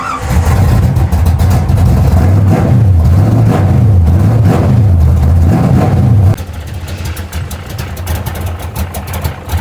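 Car engine idling with a rough, rattling note and a wavering low pulse, loud and close. The level drops suddenly at about six seconds, and the engine settles into a steadier idle with faint ticking.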